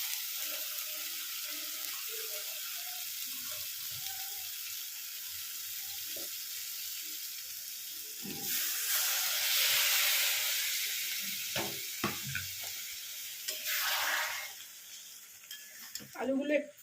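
Boiled potatoes, cut into large chunks, go into a hot pan with a brief burst of sizzling, followed by a shorter flare. Quieter clinks and soft kitchen noise come before it.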